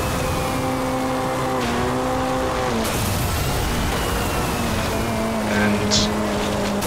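Race car engine in the video game MotorStorm, a steady droning whine with shifting pitch as the car rounds a final corner, loud and continuous under game ambience.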